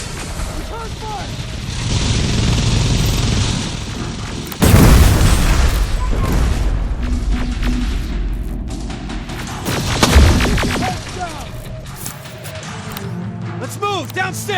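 Gunfire and heavy booms in the video game Terminator Resistance, a dense, continuous loud battle with two sharp impacts standing out, while characters shout under the noise.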